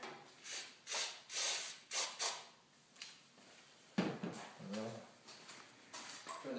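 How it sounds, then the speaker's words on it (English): Short bursts of aerosol spray hiss into a snowblower engine, about five quick sprays in a row, followed by quieter handling clatter and faint talk. "I'm going to try to do a little spray right in here"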